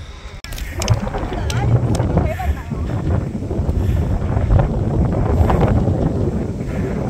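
Wind on a golf course buffets the microphone as a steady, loud low rumble that builds and holds throughout, with faint background sounds mixed in.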